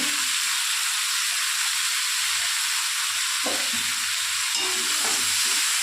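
Steady, close sizzling of spices frying in a pan with salt and turmeric for a Bengali fish curry, with occasional stirring scrapes and no talk.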